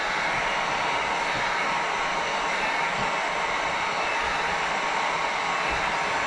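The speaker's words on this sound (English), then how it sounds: "Let the heat gun and the airflow do a lot of the work." A heat gun blows a steady, loud stream of hot air onto ceramic window tint on the back window of a Dodge Charger, an unbroken close-up whoosh with no pauses.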